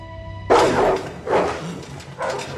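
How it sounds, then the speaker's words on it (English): Dogs bark in kennels in three loud, harsh bursts spaced under a second apart, close and echoing over a low hum. "How was Reek even sleeping in the first place with all the dogs barking?"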